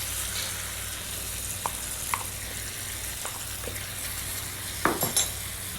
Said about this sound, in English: Give that a stir. Let's put in our peanuts.